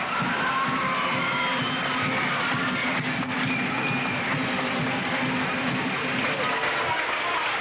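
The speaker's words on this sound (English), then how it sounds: "You hear by the crowd noise" A large crowd in a school gym at a 1978-79 basketball game makes a steady, loud roar of cheering and shouting voices that continues throughout.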